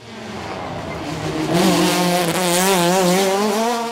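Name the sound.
Ford Escort RS 1600 classic race car at hill climb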